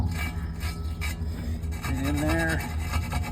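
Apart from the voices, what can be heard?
reaming wire brush scrubbing a lug nut hole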